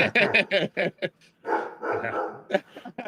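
A dog barks in a quick run of short, sharp yaps close to the microphone, then people talk over a quieter stretch.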